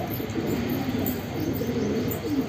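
A black wild pigeon and a Madrasi pigeon coo in soft, low, steady murmurs that run continuously and sit close by, with no talk over them.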